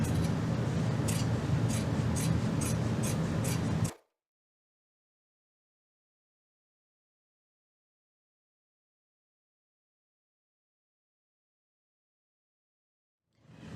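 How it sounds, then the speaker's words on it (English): Scissors trim the fabric seam allowance on a hobo bag, giving a quick run of close, crisp snips for about four seconds before the sound drops to silence. "trim down your seam allowance to about 1/8 of an inch"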